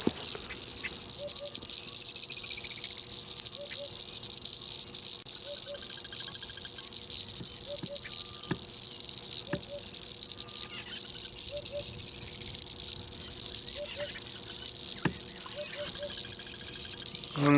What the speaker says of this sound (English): Some rain frogs, some painted reed frogs.